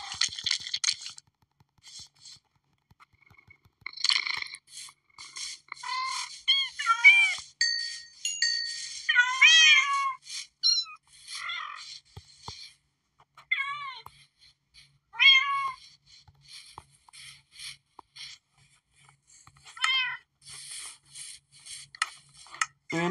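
Cats in Minecraft meow repeatedly in short, bright calls scattered across the stretch, some overlapping and clustered, with quieter gaps between bursts and no talking.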